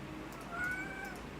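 A pet cat meows once at home, a thin, faint cry under steady background noise, heard alone with no talk.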